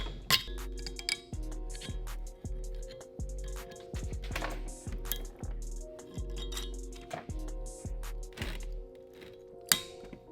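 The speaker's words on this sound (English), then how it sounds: "I'm gonna have to like pound it off here" Metal clinks and thunks from pounding a worn, badly shot bearing off the crankshaft of a disassembled Subaru engine, a steady run of sharp taps roughly every half second over a low hum, with a louder strike near the end.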